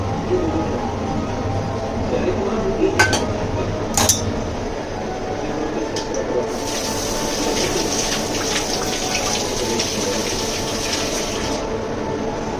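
Soft cooked dal for puran poli is poured into a strainer in a home kitchen, giving a continuous wet, splashing pour with a few brief metallic clinks.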